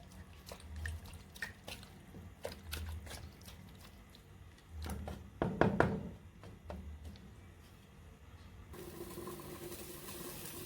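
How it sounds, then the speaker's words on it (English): A pot of Nigerian okra soup with meat bubbling on the stove gives soft pops and drips, with irregular scattered bursts clustering in the middle, followed by a steady low hiss toward the end. "So at this moment, wow, it's boiling."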